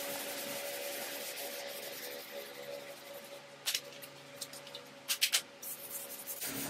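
Hand block sanding with 320 grit sandpaper on a 1951 Vendo 39 Coke machine body panel: a continuous close scratchy rubbing with steady strokes and a few sharper scuffs toward the end.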